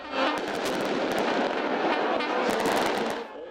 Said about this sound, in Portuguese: manifestantes soltaram rojões no meio da multidão